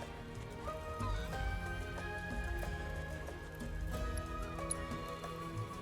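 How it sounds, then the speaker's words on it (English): A flock of chickens clucking in the video game Final Fantasy VII Rebirth, with soft, scattered clucks over a steady musical bed and faint hoof-like clopping, no speech, fairly quiet throughout. "I can't keep up with a flock of chickens."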